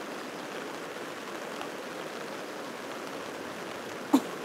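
Water flows steadily at a campsite, a continuous broadband rushing hiss that holds at an even level throughout, with one brief knock near the end and no voices.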